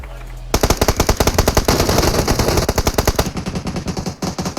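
Rapid automatic gunfire in PUBG Mobile on the Livik map, a near, loud stream of evenly spaced shots lasting several seconds, with a brief pause near the end before a few more bursts.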